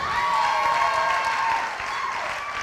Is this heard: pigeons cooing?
no